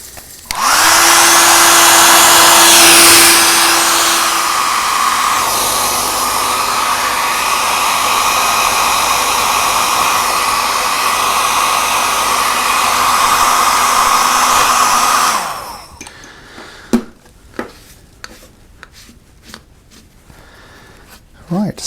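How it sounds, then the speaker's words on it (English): A loud, steady hair dryer blows continuously for about fifteen seconds, melting beeswax into carved wood, then cuts off, leaving quiet handling noises and a few light knocks. "So the hairdryer melts the wax and gets it into these crevices."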